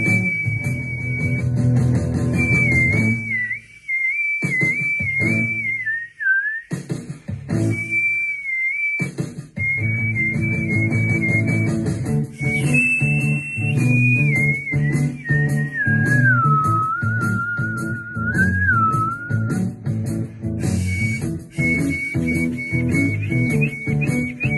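A palatal whistle from a person, a loud, clear sustained tone holding steady pitch with short wavering dips and slides, broken by brief pauses over a background of instrumental beats.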